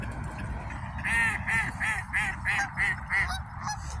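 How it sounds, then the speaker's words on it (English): Mallard ducks quack in a bunch at brackish water, a run of about eight loud, close calls in steady rhythm over constant outdoor background noise. "about ducks, we got a bunch of mallards here"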